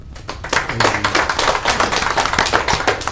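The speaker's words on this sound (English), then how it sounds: "Please give a huge round of applause" A small group at a city council meeting claps steadily for a few seconds, close and fairly loud, with no voices.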